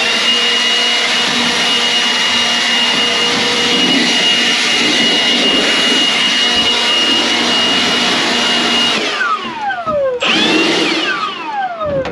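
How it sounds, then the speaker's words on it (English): Loud, steady blast of compressed air roaring as debris is blown off a Gleaner R65 combine during bean harvest, with a whining engine pitch that sweeps downward near the end, briefly cuts out, then resumes. "now we're gonna blow this sucker out. Off the combine."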